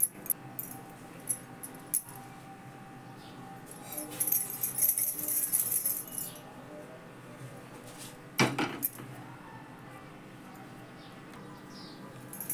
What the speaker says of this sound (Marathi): भाजला रवा काढून घेते आता त्या परातीमध्ये